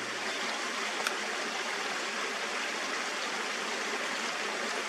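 Stream water flowing over sand outdoors, a steady soft rushing wash, fairly quiet and continuous, with no talk.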